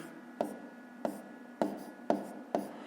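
Pen or pencil writing a fraction by hand on paper, five short scratchy strokes spaced about half a second apart, close and fairly quiet with a faint steady hum underneath.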